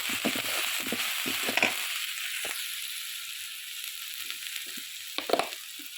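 Ginger, garlic and cumin paste hits a small amount of hot oil in a pan and bursts into a loud, hissing sizzle, which eases into a softer, steady fry with a few light stirring clicks.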